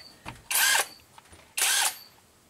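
A power drill whirs in two short, loud pulses about a second apart, each lasting roughly a third of a second, with faint handling noise between them.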